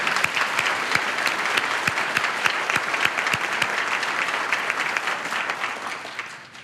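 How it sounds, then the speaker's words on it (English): A room of board members and guests at a conference center grand opening applauds for several seconds, dense steady clapping that tapers off at the end. "Let's give them a round of applause."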